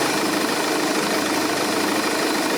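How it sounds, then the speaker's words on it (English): Diesel engine of a Nissan NV400 van idling, a dense steady rumble with faint knocking texture that stays constant and close throughout, with no talking. "I might just start the engine and see if I can see where it's coming from there"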